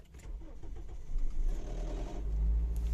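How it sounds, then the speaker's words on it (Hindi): A 2007 Toyota Axio Fielder with a 1500cc engine is push-button started: a brief starter whir catches into a deepening, rising engine rumble that settles into a steady close idle. "तो ये गाड़ी जो है स्टार्ट हो गई है।"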